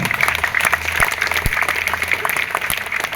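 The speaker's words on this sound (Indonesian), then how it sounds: "Maka mari kita aplaus untuk kita bersama-sama." An audience claps at a Javanese Bedhayan dance performance, a loud, sustained round of applause from a crowd, with a voice faintly heard beneath it.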